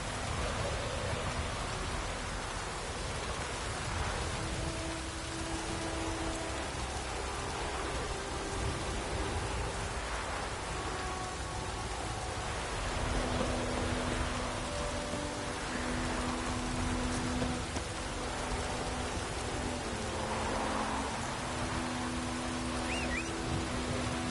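Steady rain falls in The Witcher 3 open-world game, a dense, even hiss of drops on the ground that holds for the full stretch, soft with faint tonal game sounds underneath.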